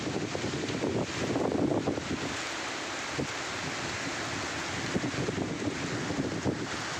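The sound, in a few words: strong wind in a storm bending trees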